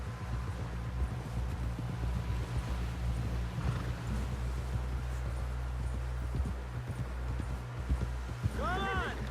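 Horse hooves clip-clopping at a steady walk in the Red Dead Redemption 2 video game, continuous rhythmic beats under a low rumble, with a voice talking over them and a horse's whinny near the end.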